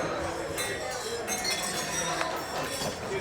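Glasses clinking in a toast at a gala dinner, bright overlapping chinks scattered through a crowded room amid a murmur of voices.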